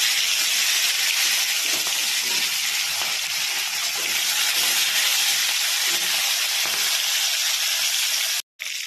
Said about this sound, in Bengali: বাকি মাছ দুটো ভেজে নেব